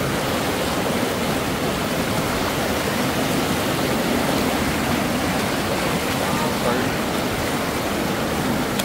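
Rushing water pours steadily and loudly, a constant broad hiss of a fast-flowing stream in Eaton Canyon with no pauses.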